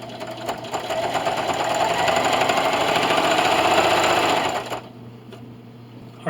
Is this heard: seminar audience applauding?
no